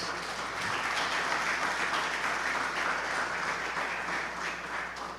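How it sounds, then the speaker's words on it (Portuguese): Steady, dense applause from a church congregation clapping for Jesus during a sermon, filling the space evenly for about five seconds with no talk over it. "Aplauda Jesus"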